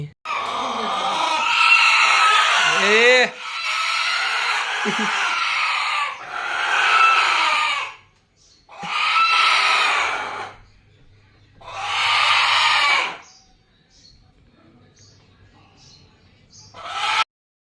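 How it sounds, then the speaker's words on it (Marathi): Roosters kept as votive offerings crow and squawk in several loud, drawn-out bursts separated by short pauses, heard close by along with other farmyard noise. "हे कोंबडे हे नवसेचे कोंबडे आहेत"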